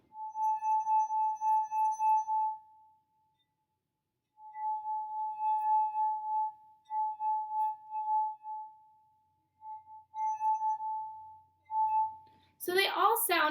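Water-filled drinking glasses have their rims rubbed, each giving a sustained pure ringing tone at nearly the same pitch, in several separate bursts with short gaps, close and clear, then a brief clatter at the end.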